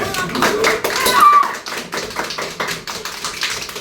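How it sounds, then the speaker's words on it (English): Children in an English conversation class clap their hands in a quick, uneven burst of close, sharp claps, with small voices mixed in throughout. "please clap your hands for all"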